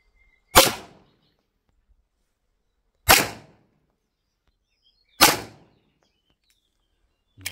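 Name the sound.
five gunshots from a 1911 pistol at a target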